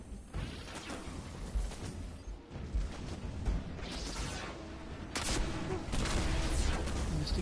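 Rocket launches and explosions in a video game keep coming in loud, dense bursts with whooshes and crashes, and the racket swells even louder near the end.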